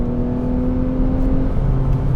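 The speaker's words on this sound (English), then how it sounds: "This engine sounds the best, okay, when you're kind of winding it out" A 2021 Lexus ES 350 F Sport engine wound out, a loud, steady droning whir with a sustained tone that shifts lower near the end, heard alone.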